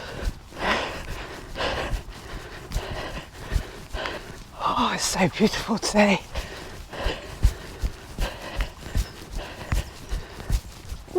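A horse plods through a field on an autumn morning in Broadway in the Cotswolds, its hooves clopping in a steady rhythm with an occasional snort, while a person talks over it.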